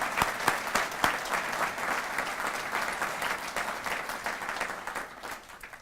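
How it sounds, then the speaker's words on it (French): An audience applauds at a political nomination rally, a dense, steady clapping from a sizeable crowd with a few sharp claps up front, sustained for several seconds before tapering slightly at the end. "Vous méritez une bonne main d'applaudissements."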